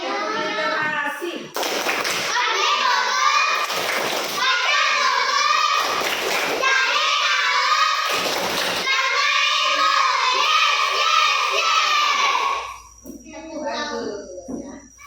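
Children in a third-grade primary school class in Loa Janan perform a literacy clapping chant together, young voices chanting in loud rhythmic unison with claps, closing with a brief quieter stretch.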